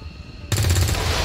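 A rapid burst of automatic gunfire from the alien-combat strategy game XCOM 2: War of the Chosen, Long War mod, starts abruptly after a quiet moment and runs as loud, close, sustained rattling to the end.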